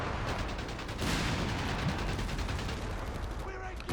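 Rapid gunfire from a Scott self-propelled gun shelling a squad of Grenadiers in the video game Company of Heroes 3, loud repeated blasts in quick succession over a dense battle soundscape.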